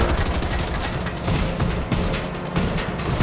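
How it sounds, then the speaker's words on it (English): Sniper rifle shots and gunfire in a video game, loud and continuous, with repeated sharp bursts over a dense background of battle noise. "there is somebody trying to snipe me"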